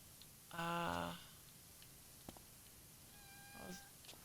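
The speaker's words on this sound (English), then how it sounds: "I'm hearing a cat." A house cat meows twice indoors, a clear nearby harmonic call early on and a fainter, higher one near the end, over quiet room tone without talk.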